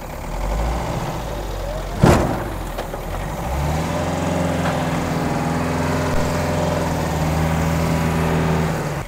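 Unimog U411 convertible engine revving while stuck in a wet, muddy hole, a close steady diesel drone with a sharp knock early on, then a rising, sustained rev holding to the end.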